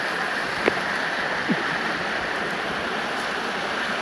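Creek water rushing steadily at Mosquito Creek where a trail bridge has washed out, a constant broadband flow close by with a couple of faint brief knocks and no talking.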